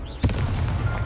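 A Confringo fire-blast spell detonates in the video game Hogwarts Legacy: a sharp boom followed by a rumbling roar that holds for the rest of the moment, loud and close.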